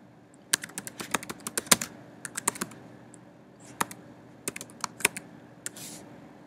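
Computer keyboard typing up close: quick bursts of crisp key clicks in uneven clusters with short pauses between, quiet and clear, no speech.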